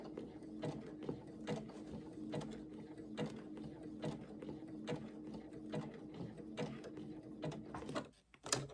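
Domestic sewing machine stitching an appliqué flower stem on a spring wall hanging, running in a steady mechanical whir with rhythmic needle clatter and short pauses, then stopping near the end.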